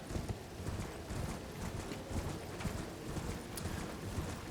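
Rapid, rhythmic hoofbeats of a horse galloping in the video game Elden Ring, a steady clip-clop drumming continuously and fairly close with no voices over it.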